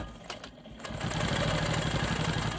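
A sewing machine stitches steadily during free-motion quilting of smoky swirls on a star quilt block, a close, even mechanical whir that starts up after a short pause and then runs without stopping.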